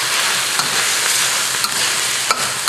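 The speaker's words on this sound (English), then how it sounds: "Okay, so the eel's been cooking." Eel stir-frying in a hot wok for a Vietnamese dish makes a loud, steady, close sizzle with occasional light clinks of a utensil against the pan.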